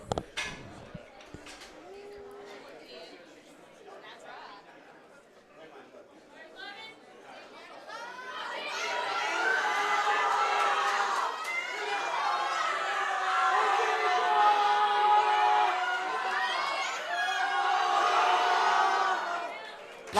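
A crowd at a high school powerlifting nationals cheers and shouts in support of a lifter's 97.5 kg attempt. Scattered voices and clatter swell into sustained loud whooping and yelling.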